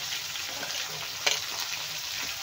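Pumpkin pieces frying in hot oil alongside green chillies for chutney, an even crackling sizzle throughout with one sharp clink of a utensil midway.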